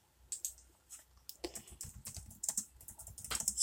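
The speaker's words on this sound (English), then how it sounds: "Sorry if you hear the clickety-clack of my keyboard." Close, quiet computer keyboard typing in irregular bursts of crisp clicks and clacks, sparse at first and then quickening into denser runs of keystrokes.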